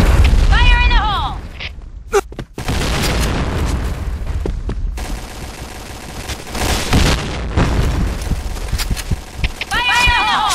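Grenade explosions in the online shooter Point Blank during a tournament match: repeated loud booms and bursts of gunfire over a dense, constant battle din, with shouting voices throughout.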